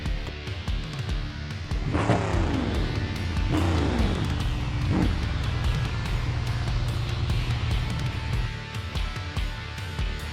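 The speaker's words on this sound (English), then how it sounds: "The next classic muscle car to take to the course is the Gavril Bluebuck." A Gavril Bluebuck classic muscle car in the BeamNG game accelerates down a no-prep drag strip, engine pitch sweeping upward through repeated gear changes, loud and close with a steady roar.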